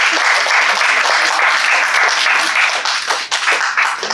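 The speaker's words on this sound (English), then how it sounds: "Can we have a huge round of applause, everyone?" A large crowd gives loud, sustained applause during a startup ideathon pitch event, a dense roar of clapping held for about four seconds, close and full.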